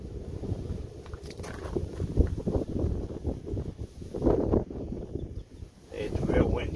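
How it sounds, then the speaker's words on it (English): Strong wind gusts outdoors ahead of an approaching storm, blowing continuous low rumbling buffets across the microphone in uneven surges that swell and ease over several seconds. "It's real windy out here."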